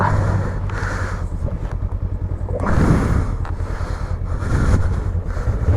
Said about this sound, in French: Donc on est parti, on est sur la moto de l'auto-école.